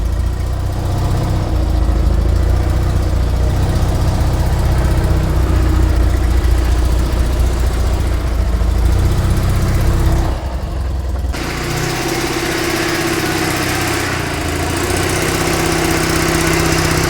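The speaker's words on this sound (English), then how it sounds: "It's such a sweet little engine." A small Invacar invalid carriage engine runs steadily and loudly up close with a buzzy, even drone, its tone shifting briefly partway through before settling back into a steady idle.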